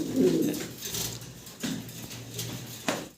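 Soft, low cooing of a pair of Mundian pigeons nearby, repeated in gentle bursts over a hissy background.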